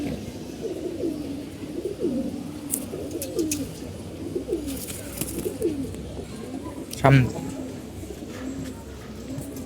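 Several pigeons coo in repeated low rolling calls close by, with a brief spoken word and a sharp knock partway through.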